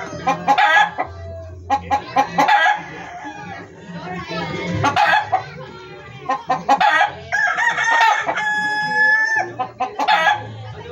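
A rooster guarding a laying hen crows repeatedly among clucking chickens, close and loud, with a person talking between the calls.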